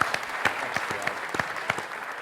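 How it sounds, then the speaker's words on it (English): Steady applause from an audience at a tech event following a performance, a continuous patter of many hands clapping with a few sharper claps standing out, no voices. "Give Eric a great round of applause, please"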